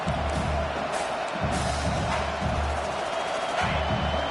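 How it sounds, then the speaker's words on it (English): Simulated stadium crowd noise from an NCAA college football video game swelling on a third-down defensive stand, a dense continuous roar with low rumbling surges, steady and loud throughout. "Decibels rising as the crowd gets behind this defense on third down."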